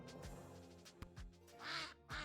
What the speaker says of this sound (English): Ah! He's a duck!